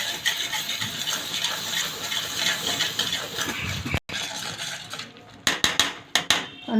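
Food is lightly mashed in a steel pot for egg curry, with a continuous clatter and scraping of a metal spoon against the vessel, then a few sharp separate clinks near the end.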